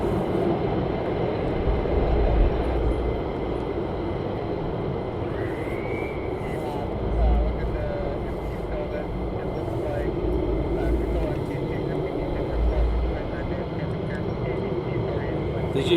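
V-22 Osprey tiltrotor aircraft droning far off near Mildenhall, a steady low rumble running under outdoor background noise with occasional nearby voices.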